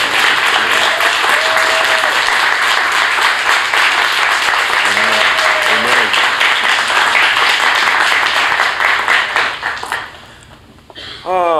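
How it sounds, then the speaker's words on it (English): A church congregation applauds and claps steadily and loudly for a woman, a dense sustained roar of hands with brief voices calling out, fading away near the end. "Give her a hand clap this week."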